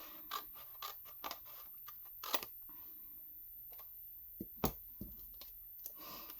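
Scissors snip and scratch through paper while trimming off excess for a handmade envelope, a series of sharp, close cuts spaced irregularly over quiet background.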